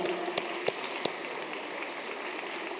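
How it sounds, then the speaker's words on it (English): Steady applause from an audience at an alumni gala fundraiser honoring medalists, a dense wash of clapping with a few sharper claps standing out, held evenly throughout. "one last round of applause for all our great medalists"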